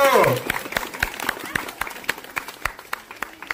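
An audience at a village Ganesh Chaturthi festival event claps loudly, a dense burst of applause that thins into scattered individual claps over a couple of seconds, with voices under it.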